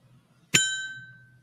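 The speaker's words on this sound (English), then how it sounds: "So please rise at home for the clanging of the bell." A single bell strikes once with a sharp, bright clang and rings on with a clear, slowly fading tone over a quiet low hum.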